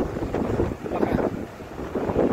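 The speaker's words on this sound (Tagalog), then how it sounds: "Hangin, lakas." Gusty wind ahead of rain, with light drizzle, rushes and thumps against the microphone in uneven bursts, loud and close, with no talking, in Doha.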